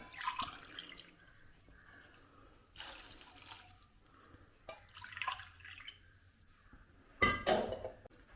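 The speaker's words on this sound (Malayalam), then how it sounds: "ഞാൻ ഒരു മൂന്ന് ഗ്ലാസ് വെള്ളം ഒഴിച്ചു കൊടുത്തു" Water from a glass goes into a pot of bilimbi fruit in several short splashing pours, close and fairly quiet. Gaps of near-silence separate the pours, and the final splash is the loudest.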